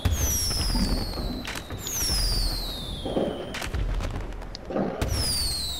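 Repeated GTA Online fireworks in a New Year celebration, rising whistles followed by booming bursts every second or so, close and continuous with no speech over them.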